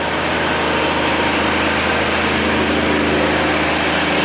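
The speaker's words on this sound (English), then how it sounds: "which would explain the higher idle to make a richer mixture because it's cold" A cold abandoned 1962 AMC Rambler engine runs at a fast idle with the choke engaged, a steady, loud, close mechanical drone with no breaks and no talking over it.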